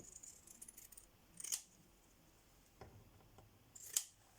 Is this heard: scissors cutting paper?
yes